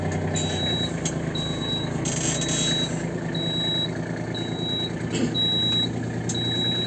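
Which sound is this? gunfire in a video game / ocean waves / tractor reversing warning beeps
tractor reversing warning beeps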